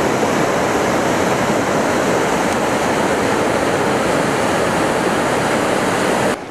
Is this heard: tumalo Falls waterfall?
yes